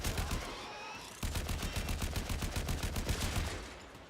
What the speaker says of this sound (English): Actually, I'm going to switch back to the assault rifle.